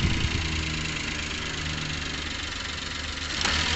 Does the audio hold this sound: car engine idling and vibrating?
yes